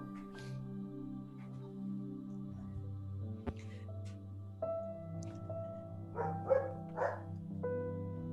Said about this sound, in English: I don't know what's going on with my dog, but apparently she's yelling at everybody that's walking by today